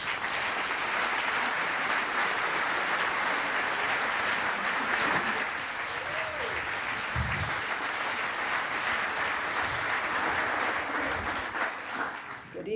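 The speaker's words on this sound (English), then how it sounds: "Please, a warm round of applause for Jane Hirshfield." A crowd at an evening benefit event welcomes poet Jane Hirshfield with sustained, dense applause that stays loud and even for over ten seconds before tapering off near the end.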